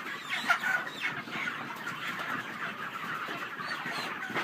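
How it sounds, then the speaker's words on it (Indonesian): A dense flock of panicked broiler chickens clucks and squawks continuously inside a poultry farm house during catching, a loud steady chorus with no talking. "ayam udah pada panik, mau pada ditangkepin."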